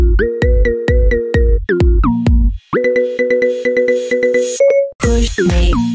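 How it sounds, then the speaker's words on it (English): Loud phone ringtone playing a pop song melody as a synthesized tune, with repeated bright plucked-note phrases in a steady rhythm, heard alone with no talk. "Have a unique ringtone of one of the hottest songs of the year instead."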